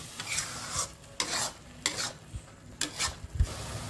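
A paste of three ground medium tomatoes stirred and fried in a pan, with repeated scraping strokes of a spoon, roughly five in four seconds, close up over a soft sizzle.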